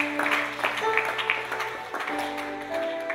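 A church congregation claps along in a loose rhythm while organ or keyboard chords sustain underneath, moderately loud and fairly close.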